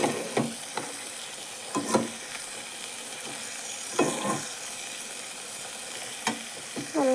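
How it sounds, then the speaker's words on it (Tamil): Potato, tomato, onion and garlic sauté in a pan under a constant hiss, with periodic scraping stirs every second or two. "உருளைக்கிழங்கு, தக்காளி, ஆனியன், பூண்டு சேர்த்து நல்லா வதங்கி வரட்டும் கொஞ்சம் நேரம்."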